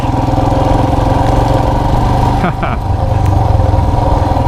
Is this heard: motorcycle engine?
yes